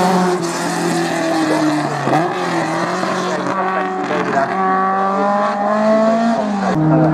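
A small Alfa Romeo race car runs on a circuit, its harmonic engine note steady and loud, dipping and climbing again near the two-second mark and at the end as it shifts gears, with a voice underneath.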